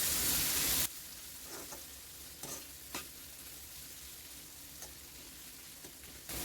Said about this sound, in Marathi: टोमॅटोला तेल सुटेपर्यंत आपल्याला टोमॅटो परतून घ्यायचा आहे